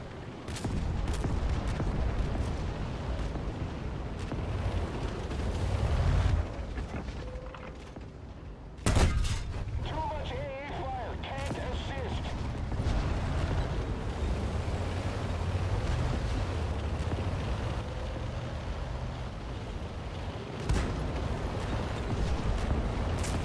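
Sherman tank cannon fire in the World of Tanks D-Day battle mode, one sharp heavy boom standing out midway over a constant rumble of engines and distant gunfire, with a few more shots further off.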